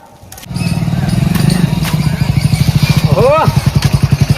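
A motorcycle engine starts and runs close by with a steady, rapid putter, then slows to an uneven idling chug as a short squeal cuts in near the end, with people talking over it.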